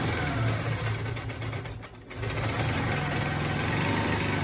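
A sewing machine stitches a quilt along a ruler for the Granny Garden quilt, running as a steady, close motor hum that dips briefly in the middle before resuming at full speed, with no talking.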